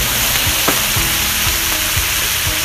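Rice with butter and rice vinegar sizzling on a hot griddle for fried rice, a loud dense crackle with scraping strokes of a spatula at a steady rhythm.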